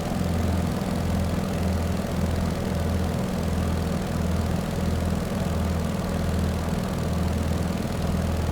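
A Beechcraft 17 Staggerwing radial engine drones steadily in Microsoft Flight Simulator, a continuous loud, even cockpit hum at reduced cruise power with 25 inches of manifold pressure, unchanging throughout with no talk.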